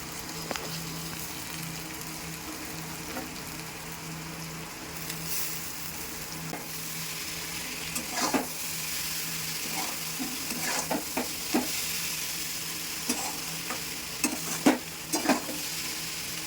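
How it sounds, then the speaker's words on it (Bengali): Boiled chow mein noodles tossed and stirred in a hot pan, a steady soft sizzle under irregular scraping and stirring strokes that grow busier toward the end, with no talking. "এবার আমি সেদ্ধ করে রাখা চাউমিনটা দিয়ে দেব।"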